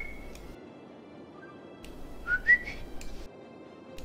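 A person imitates a baby turkey by whistling: a few short, thin, high peeping notes, some rising, close up and fairly quiet against a soft background.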